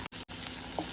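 Onions frying in a pan until brown, a dense continuous hiss of sizzling oil, close and steady, broken by two very brief dropouts, with no voices.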